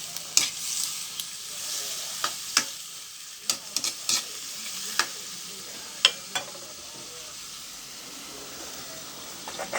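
Food frying in a pan hisses steadily while a utensil stirs it, knocking and scraping against the pan in irregular sharp clicks at close range.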